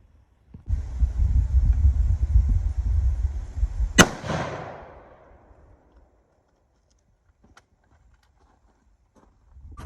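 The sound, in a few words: arrows shot at target with Carbon Express Blue Streaks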